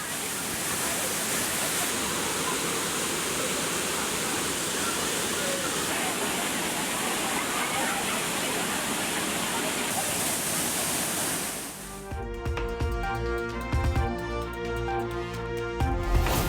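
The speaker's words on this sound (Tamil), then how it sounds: "அருவியில் தண்ணீர் ஆர்ப்பரித்து கொட்டும் நிலையில்" Thirparappu waterfall in heavy flood, a dense, steady roar of water pouring down without letup for about twelve seconds, loud and close, before it cuts off abruptly.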